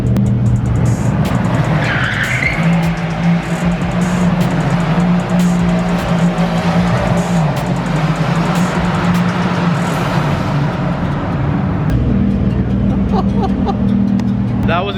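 X-tuned Mercedes C63S launching hard: loud, continuous tire squeal and skidding over a deep engine roar, sustained and close, with voices in the background.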